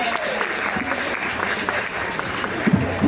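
Audience applause for a harpist at ScotFest, an outdoor Scottish festival in Coquitlam, BC: steady, dense clapping from a crowd sustained throughout, with a few louder nearby claps toward the end.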